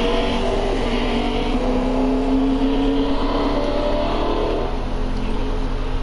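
Car driving past in a multiplayer video game, a loud, continuous engine drone with a rising tone as it nears, under faint game ambience and no clear talking.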